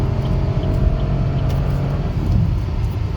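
A 1.3-litre three-cylinder turbocharged car accelerates hard, giving a steady, loud low engine rumble with road noise throughout, no voices.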